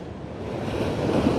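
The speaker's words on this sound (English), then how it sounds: "Waves look good, eh?" Ocean waves break and wash steadily at a surf beach, a loud continuous roar with wind buffeting the microphone.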